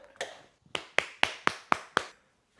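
Six sharp hand claps in a short, slightly irregular burst, close and fairly loud, in a home kitchen after the dishes are finished.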